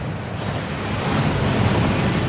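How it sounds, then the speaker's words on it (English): A steady, rushing roar of falling water from a waterfall in the video game Hogwarts Legacy, dense and unbroken with a slight swell toward the end and no voices. "That waterfall washes away all enchantments."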